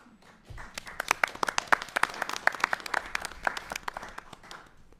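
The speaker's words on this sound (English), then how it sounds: "I think they were clapping for me, Corey, not you." A small group in a school board meeting claps, with distinct, separate hand claps rising quickly, holding for a few seconds, then thinning out near the end.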